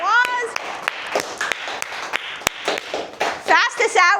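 Game show contestants, some of them children, clapping in scattered, uneven bursts of sharp claps, mixed with talking voices close by.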